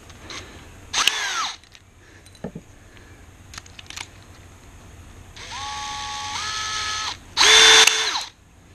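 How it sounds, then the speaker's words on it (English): A cordless power drill boring a small pilot hole while fitting a bushing to a sailboat tiller extension: several short whirring bursts, then two longer close, rising whines, separated by brief quiet pauses and small handling clicks. "But maybe I'll give it just a little pilot hole to work with."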